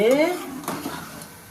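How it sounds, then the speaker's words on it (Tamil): A fish curry being stirred in a pan, a spoon scraping and clinking against metal in short strokes over a soft simmer, with a brief tonal sound at the start and no clear talk. "போட்டு இப்போ நல்லா ஒரு கிண்டிடணும்"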